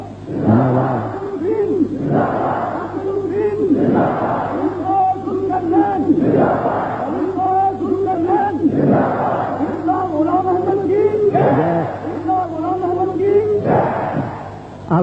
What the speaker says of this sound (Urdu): اب لگ گئے نعرے